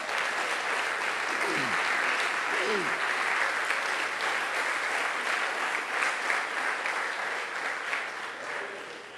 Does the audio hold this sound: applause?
yes